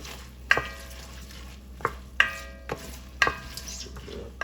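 Onions sautéing in a pan are stirred in several sharp scraping strokes over a steady sizzle, close and alone with no talk.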